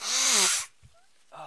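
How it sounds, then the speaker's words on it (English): One loud, sharp sneeze bursts out, followed by a brief pause and then a short spoken exclamation. "that really hurts every time I sneeze"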